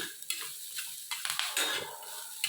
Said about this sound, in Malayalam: നല്ല ചുവന്ന കളറാക്കുന്നവരെ വറുത്തെടുക്കണം